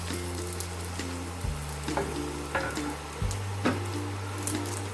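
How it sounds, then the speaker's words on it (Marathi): Chopped onions fry in oil in a pan for chana masala, making a soft, steady sizzle with faint crackles over a low background hum. "आता आपण भाजून घेऊया कांद्यांना।"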